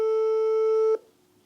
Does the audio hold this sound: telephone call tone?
yes